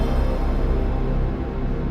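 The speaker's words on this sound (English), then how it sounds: "then the swooshing sound," A swooshing tone from the PlayStation 1 startup sound, a sustained, full, low-heavy wash that holds steady and fades slightly toward the end, with no voices.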